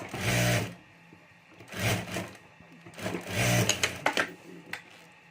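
A sewing machine stitches across the top of a fabric pencil pouch in three short bursts with quiet gaps between them, close and moderately loud.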